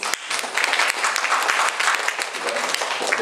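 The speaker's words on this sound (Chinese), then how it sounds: "掌声鼓励" An audience applauds a doctor at a gathering, with dense, loud clapping filling the whole moment, close and continuous with slight swells in intensity.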